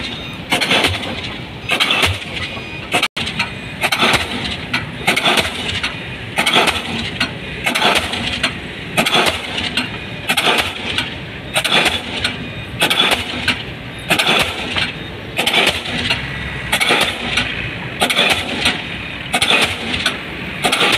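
A diesel pile hammer drives a 15-meter concrete earth nail into the ground, pounding out loud, heavy blows about once a second in a steady rhythm with a constant engine drone between strikes.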